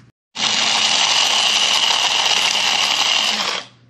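A Proctor Silex electric coffee grinder grinds coffee beans in one loud, continuous high whirring burst lasting about three seconds, starting abruptly and winding down at the end, with no talking.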